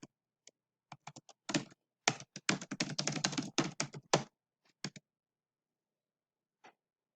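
Close typing on a computer keyboard, starting with scattered single keystrokes, building to a fast dense run of clicks, then tapering to a few isolated taps before falling silent.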